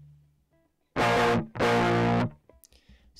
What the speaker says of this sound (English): the first thing I'll do is add some distortion